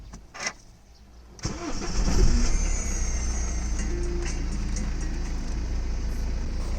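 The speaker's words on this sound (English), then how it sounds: "Surprisingly good sounding motor." A 2011 BMW X3 xDrive20d diesel fires up with a brief starter crank, then settles into a steady, close idle that holds on without any talking.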